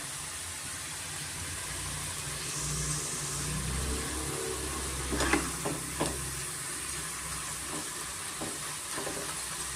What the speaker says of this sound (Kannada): ಐ ಫ್ಲೇಮಲ್ಲೇ ನಾವು ಚೆನ್ನಾಗಿ ಫ್ರೈ ಮಾಡ್ಕೊಬೇಕಾಗುತ್ತೆ